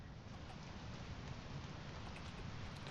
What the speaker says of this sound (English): It is raining at my little warehouse right now.